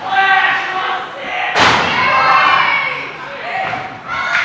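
Wrestling match with a forearm shot landing on a wrestler, heard as a sharp, loud thud midway, while a crowd roars and a commentator talks throughout.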